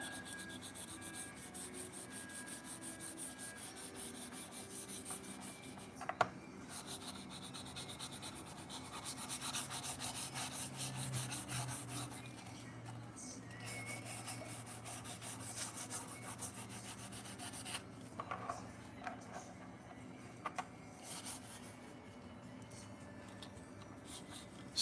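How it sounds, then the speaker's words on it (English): Steady hand sanding with sandpaper on a mini replica Ibanez Jem guitar, taking off 3D-print support nibs; a continuous soft scratchy rubbing runs throughout at close range, with a few brief knocks. "the grit of sandpaper I'm using here for this kind of like base sanding to get these support nibs off"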